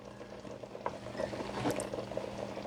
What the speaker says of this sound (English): And you give it a couple of seconds, and then it'll start to simmer again, as you can see.